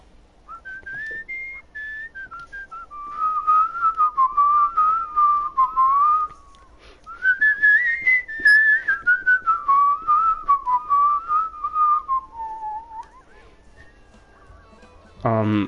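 A video game character whistles a wandering, sustained melody in two long phrases separated by a brief pause, clear and close with no talk over it.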